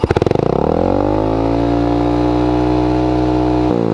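A Suzuki Raider 150 Fi motorcycle with a stock muffler starts with a few sputtering pulses, then rises into a loud, steady rev that holds close and alone before dropping away near the end.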